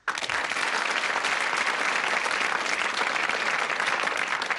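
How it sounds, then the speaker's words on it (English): Studio audience at a 1984 British quiz show applauds the incoming contestants, a steady dense clapping that fills the room from start to finish after a brief silent moment. "Let's give them a clap."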